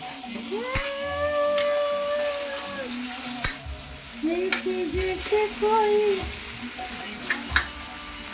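Vegetables frying in a pan with homemade ghati masala, curry leaves and cumin, a steady sizzle with stirring clinks while someone talks over it.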